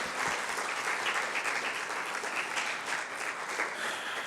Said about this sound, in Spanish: Dale una ofrenda de palmas a nuestro Dios soberano.